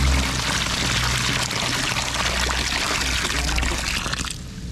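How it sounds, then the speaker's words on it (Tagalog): Water pours steadily into a cobra's burrow in the ground, a continuous gushing splash that runs loud and close for several seconds before cutting off abruptly near the end. "Sige, buhos lang ang buhos."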